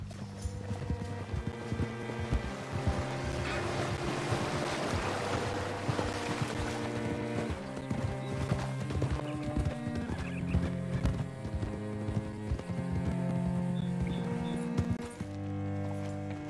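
Horse hooves clip-clopping in the Red Dead Redemption 2 video game, a steady rhythmic trot moving along beneath a bed of music and ambience, with no voices.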